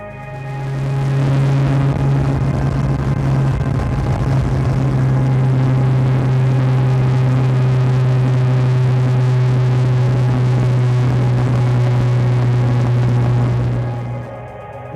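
Mazda FC RX-7 convertible drift car with a Bridgeport-ported rotary engine holds a steady, loud droning hum at constant revs for the whole stretch, fading slightly at the very end, with no voices.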